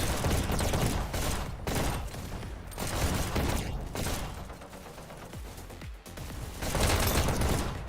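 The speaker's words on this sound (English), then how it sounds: "The rockets from Speed are managing to clear the cart." Dense rocket fire and blasts in Overwatch payload match play, loud and continuous with overlapping bursts and mechanical clatter across the stretch, no clear speech.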